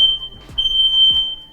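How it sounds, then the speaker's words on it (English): Household smoke alarm going off in a kitchen, a sharp, piercing high tone sounding close and loud, broken by a couple of brief thumps or knocks. "the smoke alarm's already going off and I've not even turned the heat on"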